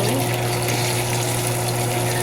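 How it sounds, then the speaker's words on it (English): Loud, steady sizzling and crackling of fish frying in hot oil, continuous and close, with a low hum underneath. "I'm over here frying fish"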